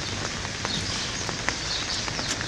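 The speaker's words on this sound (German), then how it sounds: "Es regnet und regnet und regnet und regnet und regnet und regnet und regnet." Steady rain falls on an outdoor surface, a continuous loud hiss dotted with sharper individual drop hits, close and alone without voices.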